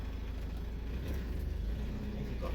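Steady low road rumble and engine drone from a car being driven on a road in Spain, heard from inside the vehicle, continuous and moderately quiet with no talking.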